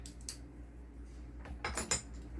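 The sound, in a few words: knife being put away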